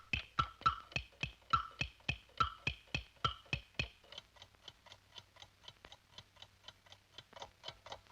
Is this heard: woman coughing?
no